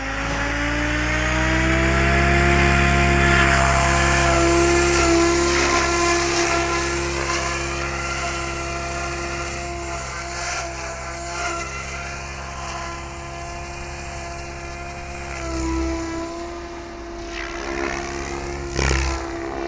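An RC helicopter fitted with XQ Power servos on its maiden setup flight gives off a loud, steady whining rotor and motor drone that swells and dips as it manoeuvres nearby, with no voices.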